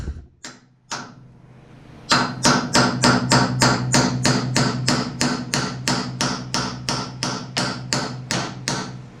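A hammer taps metal in a fast, steady series of sharp ringing strikes, preceded by a few slower, separate hits; close and loud.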